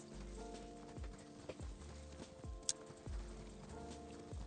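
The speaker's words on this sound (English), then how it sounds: "yeah, horse." Horse hooves clip-clopping in Ghost of Tsushima, a steady rhythmic walk of repeated thuds alone at moderate volume with no talk over them.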